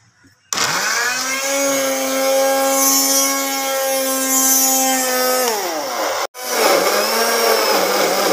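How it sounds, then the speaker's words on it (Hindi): A mixer grinder grinds garlic, onion and ginger, starting abruptly with a loud, steady whine that drops in pitch as it winds down, stops briefly, then kicks back on for a second burst. "हमने ग्राइंड कर लिया है लहसुन प्याज और अदरक"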